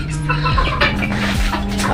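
Hens and a rooster cluck together in a pen, with several short, close clucks and a lower drawn-out call overlapping in a brief burst.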